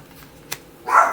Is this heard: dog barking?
yes